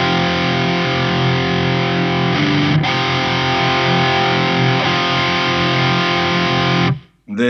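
Electric guitar driven through a Marshall ShredMaster distortion pedal, a dense saturated chord sustained loud and steady for about seven seconds with a brief pick scrape near three seconds, then cut off abruptly.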